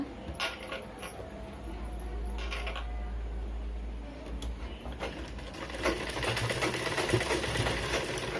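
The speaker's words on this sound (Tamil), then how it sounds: "அரை இன்ச்சுக்கு தையல் போட்டுக்கோங்க" Sewing machine running steadily as it stitches a blouse seam, a continuous close mechanical whir with small rhythmic clatter, briefly easing and resuming.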